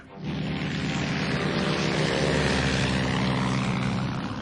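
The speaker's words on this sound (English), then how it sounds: "Swordfish aircraft flew from the carrier Victorious and discovered Bismarck sailing due south." A Fairey-style Swordfish biplane, a carrier-launched torpedo aircraft from HMS Victorious in the hunt for the Bismarck, drones with a steady, loud propeller-engine roar that holds evenly throughout with no voices.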